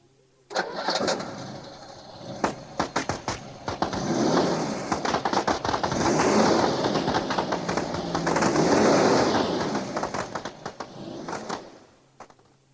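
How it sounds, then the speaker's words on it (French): A car engine rumbles and revs unevenly, with rough sputtering bursts and rattling pops rising and falling throughout, loud and close. "Le pot d'échappement troué."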